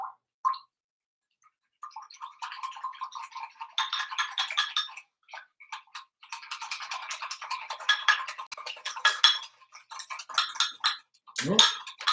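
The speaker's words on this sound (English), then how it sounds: "Go ahead and stir that up." A spoon stirring a water and phyllo filling mixture in a bowl, with quick, irregular scraping and clinking bursts that come in clusters with short pauses and end with a sharp clatter.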